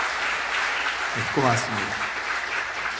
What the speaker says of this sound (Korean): 박수로 뜨겁게 좀 격려해 주시기 바랍니다